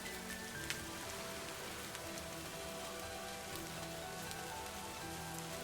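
Steady rain falls at night, a dense, even hiss of drops on surfaces that continues without a break, with a few sharper drips, and no voices.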